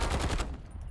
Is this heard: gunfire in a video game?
yes